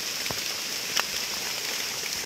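Rain falls steadily through Nong Mek forest in Thailand during mushroom foraging, a continuous soft hiss with a couple of brief sharper drips standing out.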